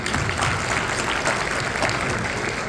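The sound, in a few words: applause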